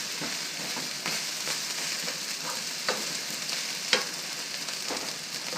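Rice with Chinese sausage stir-fries in a pan, a dense steady sizzle punctuated by frequent scraping and tapping strokes as the clumps are broken up, close and without talk.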